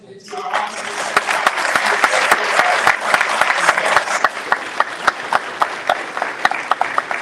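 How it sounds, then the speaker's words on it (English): A town hall audience claps for officers, full, steady applause from a large indoor crowd with sharp individual claps standing out as it continues. "give just a round of applause to our officers"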